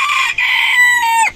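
Adult hens and chicks at feed in a backyard flock, with a close, loud drawn-out hen call followed by a shorter squawk.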